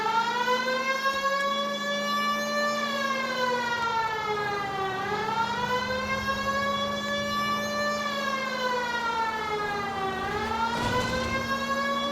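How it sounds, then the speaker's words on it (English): A 1940s-style police car siren in the Los Angeles crime game L.A. Noire wails steadily, slowly rising and falling in long sweeps, loud and continuous over a low engine rumble throughout. "It's against the rules to drive like this without a siren."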